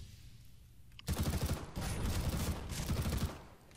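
Sustained bursts of automatic gunfire in Counter-Strike: Global Offensive erupt after a quiet second and rattle on loudly in rapid volleys, with a short break partway through.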